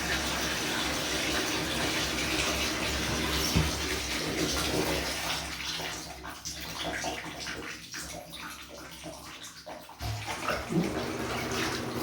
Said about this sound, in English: let's clean the tub out and try to turn on some water.